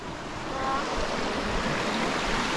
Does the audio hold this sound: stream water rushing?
yes